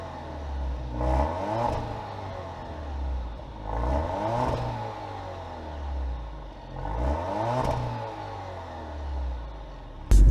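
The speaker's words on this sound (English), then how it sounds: "Let's hear what the exhaust sounds like in the back." A 2021 Alfa Romeo Giulia's 2-liter engine revs three times through the exhaust at the rear, each blip rising and falling over a low idle rumble, heard close with no talking.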